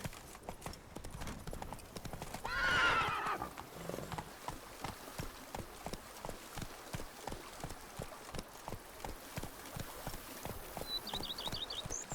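Horse hooves clip-clop in a steady walking rhythm in The Witcher 3 video game, with a brief snort and snatches of voice early on and a small chime near the end.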